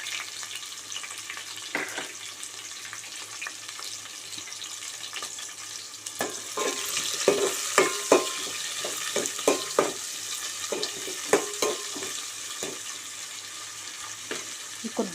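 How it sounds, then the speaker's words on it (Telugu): Onions sizzle and fry in a pan while a spoon scrapes and stirs them during Bambino vermicelli upma cooking, a steady hiss with irregular clinking strokes that grow busier partway through, no talk. "ఇప్పుడు ఆనియన్స్ వేసుకుందాము"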